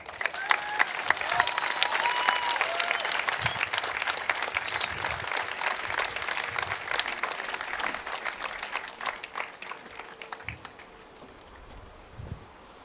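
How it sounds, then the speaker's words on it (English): Sustained audience applause at a 2014 graduation ceremony, dense clapping from a large crowd lasting over twelve seconds and tapering slightly toward the end, with faint voices underneath. "I'd like to give him another round of applause because that was fantastic."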